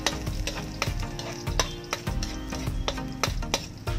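Garlic hits hot oil in a pan for Bicol-style pansit bato, giving a crackling sizzle broken by repeated sharp clacks of a utensil stirring against the pan, fairly close and without talk.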